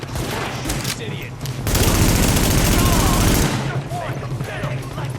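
Loud, sustained automatic gunfire in The Division, a continuous close burst of rapid shots lasting about two seconds, preceded and followed by scattered shots, game sounds and voices.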